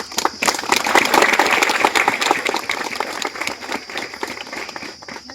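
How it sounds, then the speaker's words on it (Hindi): Applause rings out right after the ribbon is cut at a new church's inauguration: a crowd claps loudly and steadily, swelling early and then gradually thinning out, with no talk over it. "ताली बजा देंगे।"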